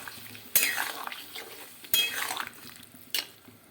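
Mustard and green chili paste stirred into a simmering egg curry, a spoon scraping the pot in three distinct bursts with soft clinks between them, close and fairly quiet.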